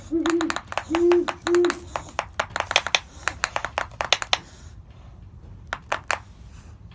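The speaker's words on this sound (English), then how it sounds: "This is a defense mechanism used by owls to scare away predators." An owl in a defensive display gives a few short hissing pulses followed by a rapid series of sharp bill clacks, loud and close, trailing off into sparse snaps near the end.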